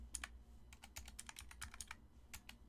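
Quick, uneven typing on a computer keyboard, a close burst of about a dozen sharp key clicks with brief pauses between them, alone and fairly quiet.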